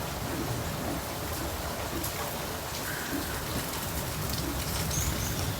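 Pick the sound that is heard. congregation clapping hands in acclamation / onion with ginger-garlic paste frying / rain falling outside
rain falling outside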